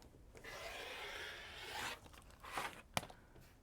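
A rotary quilting cutter slices along the edge of a fabric strip on a cutting mat, giving a steady close rasping glide that swells near the end, followed by a couple of softer scrapes and a sharp tap.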